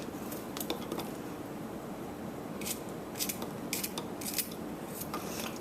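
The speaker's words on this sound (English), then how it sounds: "all I'm going to do is give the garlic a rough chop, because we're going to pound this into a smooth paste" A knife roughly chops garlic on a board ahead of pounding it into a paste, giving scattered crisp taps and clusters of quick cuts over a faint, steady background hiss.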